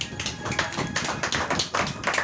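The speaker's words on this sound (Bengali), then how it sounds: "হাততালি জোরে।" At a birthday gathering, hands clap loudly in quick, slightly uneven bursts, close and continuous for the whole stretch.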